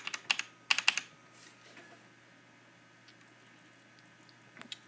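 Keys clatter on a Compaq SR1750NX desktop computer keyboard in two quick bursts of close, crisp typing, followed by a quiet stretch and a few final taps.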